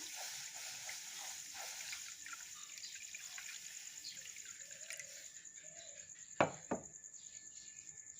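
Milk poured into a heated wok for soybean payas: a steady hiss and soft liquid trickle over faint background noise, then two sharp clinks near the end.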